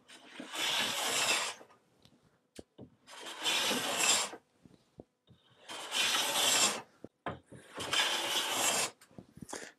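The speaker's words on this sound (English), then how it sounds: "What I need to do is advance the blade just slowly. And you can see the shaving starting to come off." A hand plane shaves the wooden boards of a rustic chest in four long, raspy strokes with short pauses and small knocks between them, close and fairly loud.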